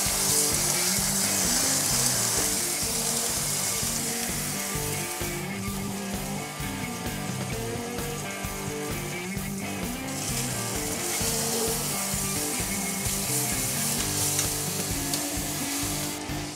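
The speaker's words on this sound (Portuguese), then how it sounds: "Assim que o azeite aquecer, vamos selar a fraldinha dos dois lados até que ela fique bem dourada." Flank steak sears in hot olive oil in a pan, giving a steady, loud sizzle throughout, with a few faint stirring and scraping touches and no talk.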